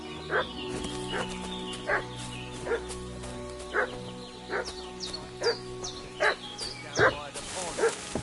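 A dog in Kingdom Come Deliverance 2 barks in a steady series of loud, regular yaps over a constant low background hum.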